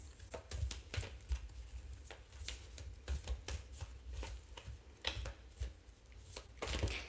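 Tarot cards shuffled by hand, a quiet continuous run of crisp riffling and slapping clicks, close and fairly soft, with no talking.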